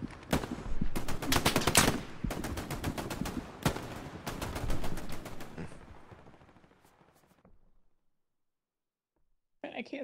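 Rapid gunfire in Hell Let Loose, a World War II shooter, rattles in loud bursts of automatic and single shots for several seconds, then trails off into quiet, with a brief talking voice at the end.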